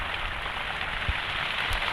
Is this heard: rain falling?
yes